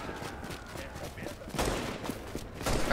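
Gunfire in the video game The Division crackles in scattered bursts, growing louder halfway through, while people talk over the shooting.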